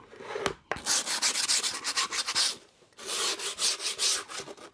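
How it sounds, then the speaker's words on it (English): Rapid back-and-forth rasping strokes of sanding along the edge of skateboard grip tape, close and scratchy, in two bursts split by a short pause. "do the whole kind of sanding around the edges thing"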